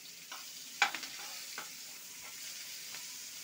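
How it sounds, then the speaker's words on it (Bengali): Onion and garlic fry in oil with a soft, low sizzle, broken by a few light clicks and stirring scrapes, quiet and close. "আমি রসুনটা তেলে দেব, পেঁয়াজটা আমি তেলে দিয়ে দিচ্ছি।"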